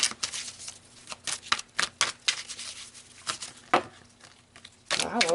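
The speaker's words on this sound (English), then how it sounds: "Let's pull some more cards here." Tarot cards shuffled and pulled from a deck at close range, with irregular crisp riffling and slapping bursts and a quiet steady hum underneath.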